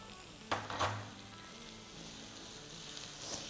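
Chopped onions sizzle in coconut oil in a pan for prawn pulao, a steady close frying hiss with a couple of clattering stirs near the start.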